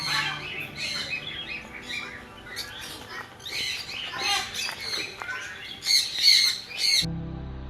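Macaws and grey parrots at a bird sanctuary keep up a busy chorus of squawks, chirps and shrill calls, with louder screeches near the end before the noise cuts off.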